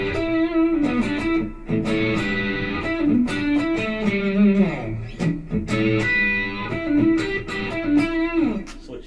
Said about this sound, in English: crank the mids a little bit and pull off some distortion